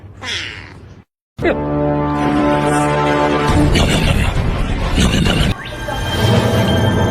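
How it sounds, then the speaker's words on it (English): A pet cat meows loudly several times at close range, with drawn-out tonal cries over household noise, and a person speaks nearby. "Meow."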